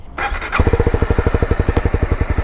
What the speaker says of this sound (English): So let's hear the exhaust sound.